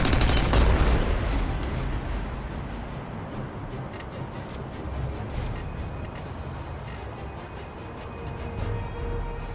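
Sustained machine gun fire from a sound effect, a dense, continuous rumbling barrage that starts with a heavy boom and rolls on steadily at a moderate distance with no talking.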